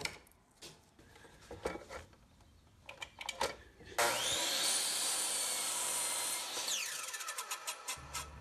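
A power saw cuts through a 2x4 wood board for picnic table bench bracing, ripping loudly and steadily for about three seconds after scattered tapping and handling, then winding down into clatter.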